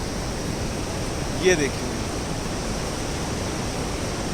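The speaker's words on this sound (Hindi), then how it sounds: "मैं आपको जो अल्टीमेट चीज़ दिखाने जा रहा हूँ वो है माँ अलखनंदा की कलकल करती धुनी।" The Alaknanda river flows through the mountains on the route from Joshimath to Badrinath, a constant broadband rushing roar that stays even throughout, with a short spoken phrase heard partway through.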